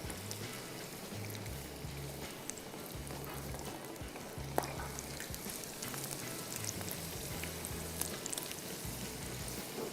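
Food frying in a pan at moderate heat, a faint steady sizzle with small crackles and an occasional clink, quiet and low under soft background music.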